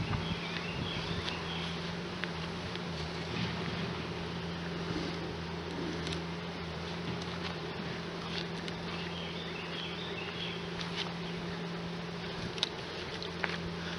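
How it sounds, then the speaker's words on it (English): Honeybees buzzing on top of open hive boxes, a steady close drone of many wings with a constant low hum, alone and without talk. "I'm going to get rid of these bees on top here so they're not a nuisance for putting this back in."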